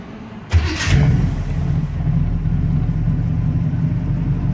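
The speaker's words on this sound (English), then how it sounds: "So I wanted to crank this thing up for you." A 1966 Chevy II 100 engine cranks briefly with a sharp starter whir, catches, revs up once, then settles into a steady, smooth low idle rumble close by, with no talking.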